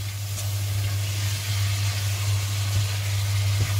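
Frozen food sizzles in a pan while being fried for navy-style macaroni, a steady close hiss over a low constant hum, with no talking.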